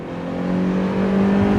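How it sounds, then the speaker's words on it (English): A Mazda MX-5 engine revs hard at full power, a steady droning tone rising slightly in loudness as it climbs through the revs, heard close without speech. "rev that car all the way out"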